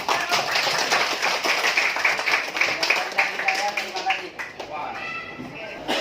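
Classroom students clapping, a brief patter of hands mixed with voices and chatter, moderately loud and fading out after a few seconds.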